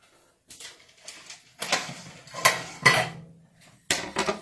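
Kitchen clatter as a cutting board is pulled out, with a string of close, sharp knocks and clacks of wood and utensils separated by short pauses.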